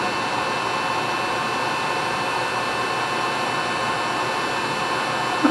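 Heat gun blowing a steady, even hiss of hot air while shrinking heat-shrink tubing over repaired wiring on a 2004 Mercedes C32 AMG, constant and close throughout.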